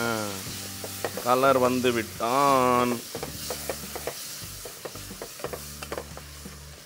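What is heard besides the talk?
stirring spices and salt into biryani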